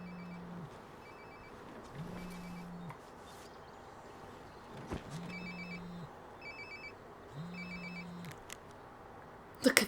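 A phone rings in the video game Life is Strange Before the Storm, four repeated low buzzing rings with bright electronic chirps, evenly spaced over quiet ambient background noise.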